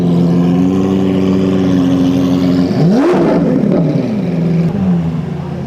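A Lamborghini Aventador engine revs hard, rising sharply in pitch to a loud peak and falling back, then settling into a steady idle. The sound is close and continuous, with no talking.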